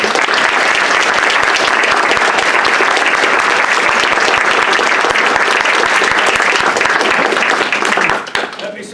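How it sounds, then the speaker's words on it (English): An audience at an annual lecture bursts into dense, loud applause that holds steady for about eight seconds before thinning out, with a voice faintly audible at the close. "let's give him a round of applause"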